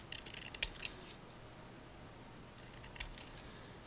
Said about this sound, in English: So I just took my scissors and I kind of trimmed it up just a teensy tiny bit.